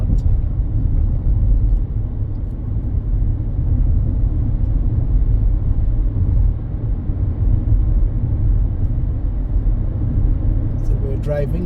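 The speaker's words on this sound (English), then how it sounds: "driving the length of the mighty Grynner Highway" A car driving along the Grynner Highway in Barbados, with a steady, loud broadband road and engine rumble that holds unbroken throughout, close and continuous with no talk.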